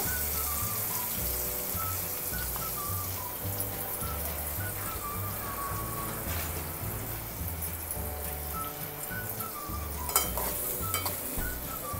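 Chopped onion with a pinch of asafoetida sizzles in hot oil in a cooking pot for a dried prawn dish, a steady bubbling hiss with a low background hum throughout.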